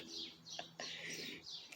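Outdoor birds chirping in soft, repeated high tweets and short calls, a few separate phrases spread over under two seconds, faint against a quiet background.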